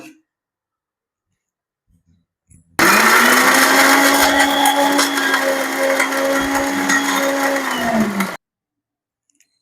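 An electric kitchen mixer grinds onions, coriander, cinnamon and cloves in one loud, steady whirring run of about five and a half seconds, beginning and ending abruptly after near silence.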